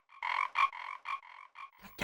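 A frog croaking sound effect in a Hindi TV comedy gives a quick series of about eight bright, raspy croaks in an uneven rhythm, close and clear, ending in a brief burst of noise.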